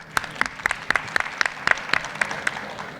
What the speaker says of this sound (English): Please clap for Peter.